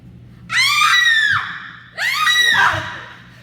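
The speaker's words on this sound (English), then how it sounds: "Please stop screaming." A woman lets out two long, loud, high-pitched screams in an old dramatic scene, each lasting over a second with a short gap between them.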